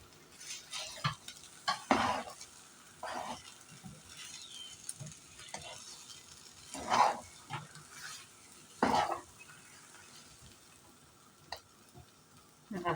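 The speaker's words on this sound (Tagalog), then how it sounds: "kailangan haluin siya ng haluin" Biko rice cake being stirred in a pan while it cooks: irregular scraping and sticky slaps of a utensil through the thick rice, in bursts of varying strength over a low kitchen background, with no talking.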